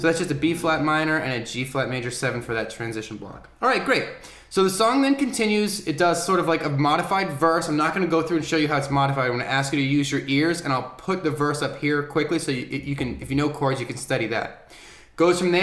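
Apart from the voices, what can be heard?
No everyday noises stand out.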